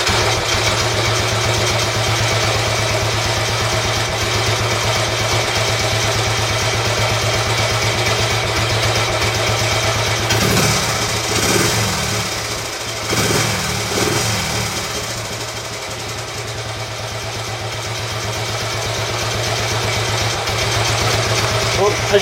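A Royal Enfield Bullet 350 Classic single-cylinder engine fires up from a kick start and settles into a steady, even tick over, loud and continuous throughout, with brief talk midway over the idle.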